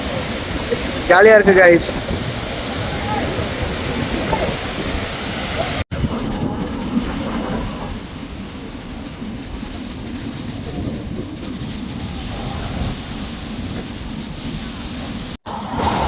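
Aagaya Gangai waterfall in the Kolli Hills, Namakkal, pours down as a steady, loud broadband roar of crashing water, continuous throughout, with a person briefly talking over it near the start.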